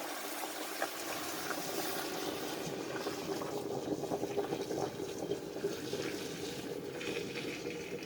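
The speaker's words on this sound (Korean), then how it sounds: "그리고 이제 끓여놨던 물을 넣겠습니다" Previously boiled water pours into a pot for fish broth, a continuous close rushing and gurgling stream that stays steady throughout, heard alone.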